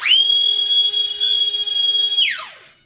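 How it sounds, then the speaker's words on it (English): An E-flite UMX Me 262 RC jet, battery not charged for flying, gives a loud, shrill sustained whistle that holds steady for about two seconds, then sweeps down and fades. "Sorry, that UMX A10 sound. Really annoying loud whistle."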